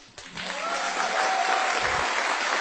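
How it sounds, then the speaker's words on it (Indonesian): An audience at a televised contest final applauds a contestant: clapping swells in quickly after a brief knock and holds steady and full, with a faint sustained tone running beneath it. "Tepuk tangan untuk Mumpuni"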